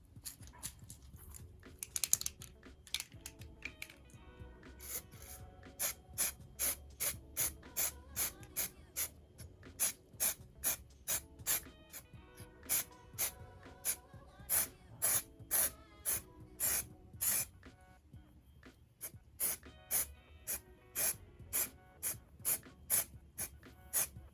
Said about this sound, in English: I'm going to spray the color on